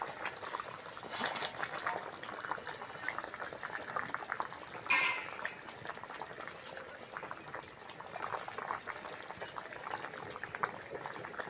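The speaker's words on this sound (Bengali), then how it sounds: "ঝোল ভালোভাবে ফুটে গেছে" A thin koi fish curry broth with potato, papaya and green banana bubbling in a pot, faint continuous gurgling with occasional louder bursts, no voices.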